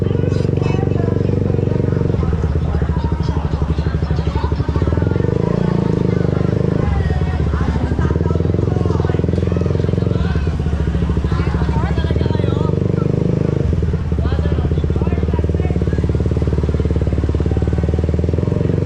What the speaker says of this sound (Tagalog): Nakakadaan na yung mga motor sa atin.